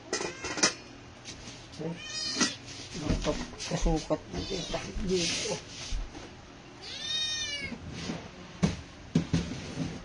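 A cat meows several times close by, short plaintive calls mixed with a person talking and playfully imitating the meows, with light household clatter in the background.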